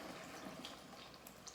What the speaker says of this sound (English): I'm just gonna go ahead and pour this chicken broth right on over